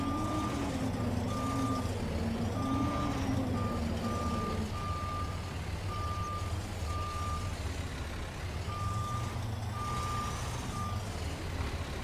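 A truck backs in inside Farming Simulator 22, its reversing alarm beeping in a regular rhythm over a steady low engine drone, clear and continuous throughout.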